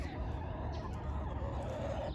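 Backyard hens clucking softly at a distance in the morning over a low background rumble, scattered fowl calls continuing throughout.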